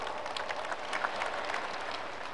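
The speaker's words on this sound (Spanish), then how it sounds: "La recibimos con un fuerte aplauso." An audience claps steadily to welcome Graciela Vilca of the Bartolina Sisa peasant and Indigenous women's federation of La Paz, a dense, even wash of applause lasting throughout with no voices.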